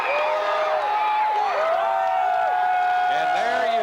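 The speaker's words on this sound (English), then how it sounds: "there you see the elated St. Francis Flyer crowd" A high school gym crowd of St. Francis Flyers supporters cheers after a 1992 boys' state basketball championship win, a broad sustained roar with whistling and shouts, while an announcer talks over it.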